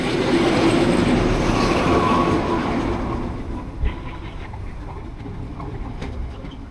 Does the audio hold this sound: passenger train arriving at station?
yes